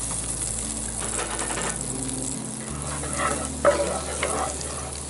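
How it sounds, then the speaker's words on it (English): Two tablespoons of butter melting in a cast-iron Dutch oven set over an open fire, a soft crackling sizzle with light scraping, close and steady, a low hum beneath and a couple of brief knocks near the end. "The Dutch oven's back on the fire. Go into those 2 tablespoons of butter first."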